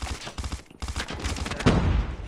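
Rapid bursts of gunfire in the mobile shooter game COD Mobile, short rattling volleys broken by a brief gap, then a heavier, louder blast toward the end, with no talk over it.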